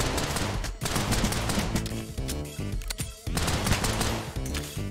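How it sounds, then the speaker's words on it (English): Loud, dense game combat in Unholy Commotion, with a continuous barrage of gunfire and blasts, including a big explosion, packed tightly together with only brief dips over five seconds and no voice on top. "Oh, that's a big explosion."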